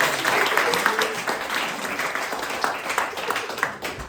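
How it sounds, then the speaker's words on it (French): Audience applause at a French comedy show, a steady dense wash of many hands clapping that runs the full length at close range, with some voices mixed in. "Tenez un applaudissement pour Jerry, s'il vous plaît."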